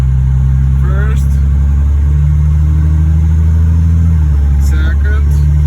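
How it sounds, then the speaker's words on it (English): A truck with a 47RH automatic transmission accelerates under very light throttle, a steady loud engine drone that rises and changes pitch as it shifts, with a voice talking over it. "Let's give it power throttle, really light throttle."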